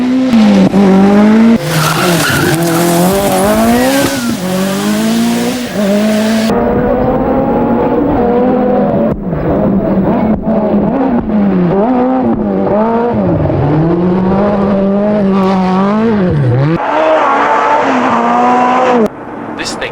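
A Ford RS200 Group B rally car's mid-mounted 1.8-liter turbo engine revs hard and loud, pitch rising and falling through gear changes, with tires screeching as the car skids close by.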